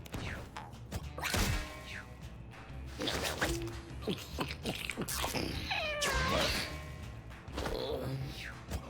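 Cartoonish cat meows from the video game Mewgenics, several short rising mews scattered among clicks and small game sound effects, fairly quiet overall.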